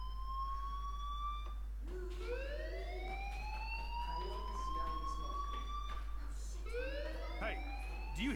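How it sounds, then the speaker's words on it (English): Rising, wailing alarm tones sounding in the game Life is Strange, sweeping upward repeatedly over a constant low hum, with a voice speaking over them. "Hey, do you hear that fire alarm?"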